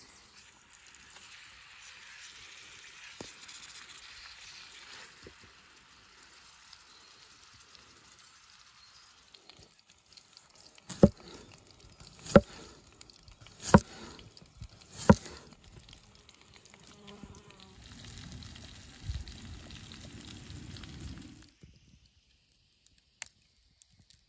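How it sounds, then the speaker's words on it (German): Minced roe deer meat fries in a pan over a campfire with a faint, steady sizzle, broken by a few sharp knocks and clicks of utensils and no talking. "Dann werden wir das mal schön anbrennen, anbraten, wie auch immer."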